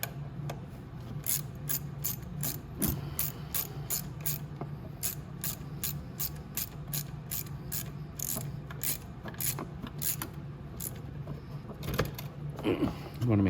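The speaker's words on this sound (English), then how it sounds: "Now I can just go ahead and tighten those all in" A ratchet clicks in quick, repeated bursts while tightening bolts on the motor of a Venom E-Madix 1300w electric ATV, close and fairly quiet, with short pauses between strokes.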